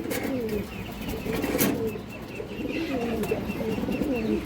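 Khaki Muslim hen pigeon cooing in repeated soft, throaty rolls, close and fairly loud, with faint chirps and ambient noise around it.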